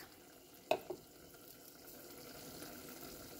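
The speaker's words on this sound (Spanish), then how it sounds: "acá se está sofriendo el jitomate con la cebolla" Tomato and onion fry in a pan, giving a soft, steady sizzle with a couple of brief utensil clinks near the start, quiet and without talk.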